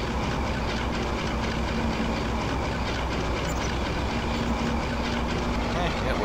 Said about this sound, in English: Hear that Alco chug.